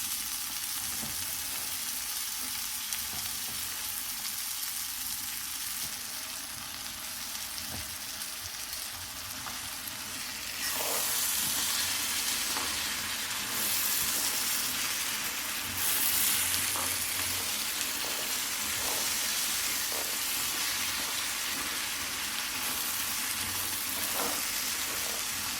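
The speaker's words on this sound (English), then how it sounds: "Incorporate 2 kilograms of these beauties into the spiced onions and fry for 5 minutes." Black chickpeas fry with spiced onions in a pan, a steady close sizzle with occasional stirring scrapes and no talking.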